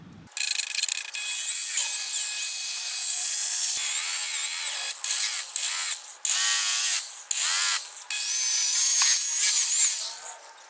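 A polishing buffer on a car headlight whines at high pitch, running steadily with several short pauses and restarts, close and loud.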